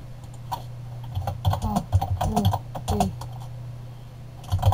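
Quick keystrokes on a computer keyboard, fast and uneven, clattering steadily at close range over a low constant hum, with a few short voice sounds mixed in.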